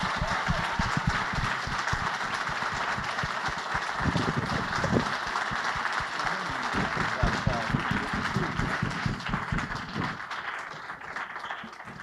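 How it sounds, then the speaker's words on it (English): Applause at a Black Learner Excellence Summit panel at City Colleges of Chicago, a moderate, continuous crowd clapping mixed with murmuring voices that tapers near the end. "So let's give our panelists one more round of applause."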